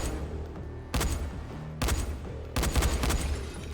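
Gunfire in the zombie survival video game Dying Light, heard as three loud bursts of rapid shots separated by short pauses over a low background rumble.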